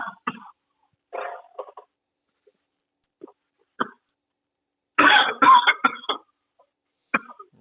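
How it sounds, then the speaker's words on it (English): Several short coughs and throat clearings from a person with COVID break a quiet room, ending in a louder, harsher burst of coughing near the microphone. "COVID cough here"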